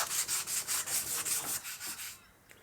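Hand sanding of a cat back exhaust pipe being polished: a close, rhythmic back-and-forth rasping, about ten even strokes, bright and gritty, fading out at the end with no talking.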